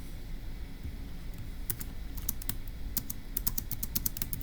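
Someone types on a computer keyboard while entering a logic puzzle answer. Sparse clicks at first, then quicker bursts of close keystrokes over a quiet room hum.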